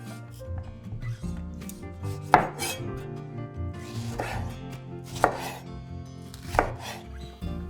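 Tomatoes roughly chopped with a knife on a board, four or five distinct thudding cuts spaced a second or so apart, close and clear, with soft rubbing and scraping between strokes.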